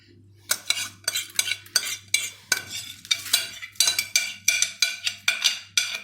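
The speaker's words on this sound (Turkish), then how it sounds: "Öncelikle 4 su bardağı yıkanmış pilavımı boşaltıyorum." Washed rice going into a pot for stuffed dried eggplant and pepper dolma, heard as a rapid series of about a dozen close, crisp scraping and rattling strokes. Each stroke is sharp and short, with no talk.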